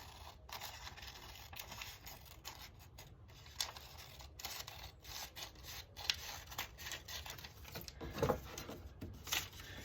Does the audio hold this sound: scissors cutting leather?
yes